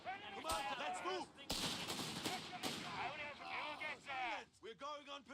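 Gunfire in a war video game: rapid sharp shots and bursts crack repeatedly through frantic shouting from game soldiers, with loud reports punching through the chatter.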